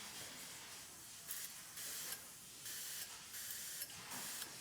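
A Sure Shot 302B sprayer nozzle puts out a coarse stream in a series of short, soft hissing bursts with brief pauses between them, with no one talking.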